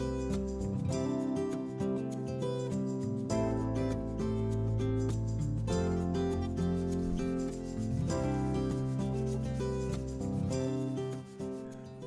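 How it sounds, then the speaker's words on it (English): A steel Damascus Bowie knife guard is pressed against a new buffing wheel loaded with green compound, giving a steady, loud rubbing whir that holds unbroken throughout. "finally with green compound on my new buffer,"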